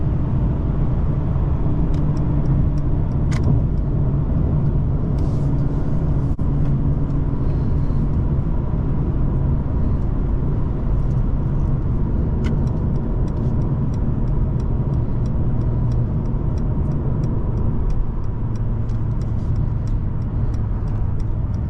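A 2019 Mercedes-Benz CLS450 4MATIC pulls forward on the road with a steady, close, low engine and road rumble that runs unbroken throughout. There is no talk.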